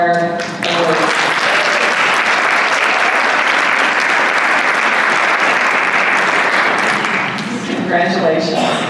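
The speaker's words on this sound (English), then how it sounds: "One more round of applause for our awards." Sustained applause from an audience at an awards presentation during an annual business meeting, dense and loud clapping filling about seven seconds, with a voice talking briefly before and after.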